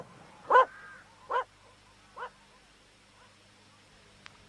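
A puppy gives three short yapping barks, each fainter than the last, fairly close in a quiet room.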